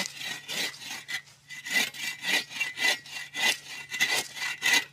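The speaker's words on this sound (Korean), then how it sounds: "여기에 톱을 댈 경우 톱질해 들어가다 보면 이런 일이 벌어지죠" A handsaw rasps through wood in quick back-and-forth strokes, about a dozen rhythmic scraping pulses, close and fairly loud.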